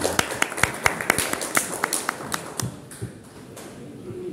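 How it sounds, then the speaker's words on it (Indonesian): Audience claps for Mas Zaki at a Pemuda Muhammadiyah East Java regional leadership gathering, beginning as distinct, fairly close claps in an uneven rhythm and thinning to scattered claps that fade out. "Aplaus untuk Mas Zaki."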